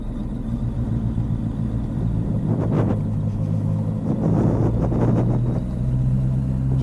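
A motorcycle's steady low engine rumble idles along at slow speed on a road ride, with a couple of brief rises in throttle midway, close and continuous.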